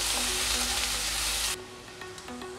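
Finely chopped onion hits hot oil for aloo chokha with a loud, hissing sizzle that holds for about a second and a half, then falls to a softer, steady frying crackle.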